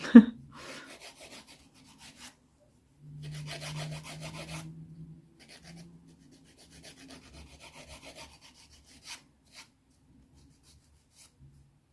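A nail file rasps across natural fingernails, rounding off square corners, in short, quiet scraping strokes, the clearest burst in the middle, with sparse faint rubbing afterward and long near-silent gaps.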